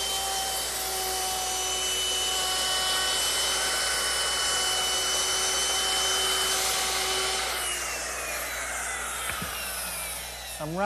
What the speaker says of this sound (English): I'm rounding over the top edges of the seat slats using the same 1/4-inch rounding over bit that I used for the back slats.